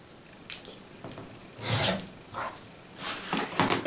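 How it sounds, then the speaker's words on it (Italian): Quilt fabric is trimmed to a quarter inch in a few separate rasping, rubbing strokes, each lasting a fraction of a second to half a second, heard close up in a quiet room. "andiamo a rifilare a un quarto di pollice"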